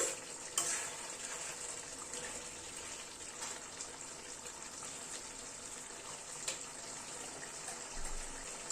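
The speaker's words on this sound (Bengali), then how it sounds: "আরেকটু চিকেনটাকে নাড়াচাড়া করে নিচ্ছি" Chicken with fenugreek seeds cooks in a covered pan that has released a lot of water, making a steady, soft watery simmer and hiss with faint stirring scrapes throughout and no voices.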